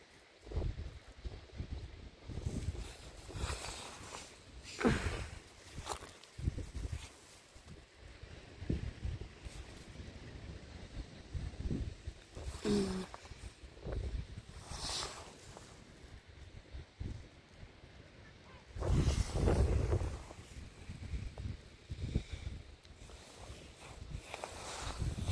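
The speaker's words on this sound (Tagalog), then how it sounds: "Sobrang hangin nga lang dito." Strong wind at Chesil Beach buffets the microphone in irregular gusts, rumbling loudly in bursts, with quieter lulls in between and faint surf beneath.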